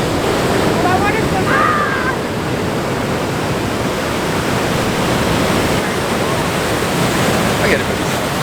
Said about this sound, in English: this is prime water splash zone